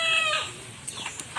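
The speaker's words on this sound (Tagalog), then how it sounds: "Nagukod pud sila kanang manok nga naibulang kay hindagan." Chicken being chased in a rural village setting, a quick squawk followed by short clucks and scuffling.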